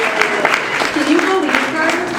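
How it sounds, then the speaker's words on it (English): Audience applauding at a reading at Tibet House in New York, a scattered, moderately loud clapping with voices cheering over it. "A round of applause"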